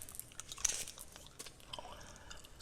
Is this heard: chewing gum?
yes